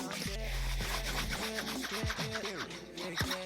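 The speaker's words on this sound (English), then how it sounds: "Do you hear my windbreaker? It sounds so cute." Windbreaker jacket rustles close by in soft, irregular swishes and scrapes, brief crinkly strokes with no talking over them.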